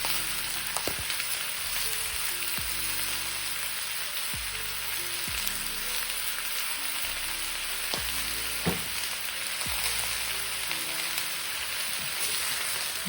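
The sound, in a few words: stirring tofu stir fry with vegetables in a pan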